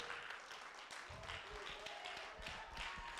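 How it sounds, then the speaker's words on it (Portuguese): A church congregation claps during worship, a steady, dense patter of many hands filling the space from start to finish, with voices faintly mixed underneath. "Aplauda ao Senhor."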